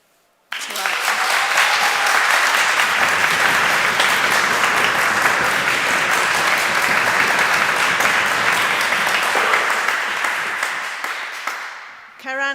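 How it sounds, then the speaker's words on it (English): An audience at an annual scholars' debate gives sustained applause, a dense, loud, steady wash of clapping for about eleven seconds that fades near the end, with no one speaking over it. "can we give a big applause to"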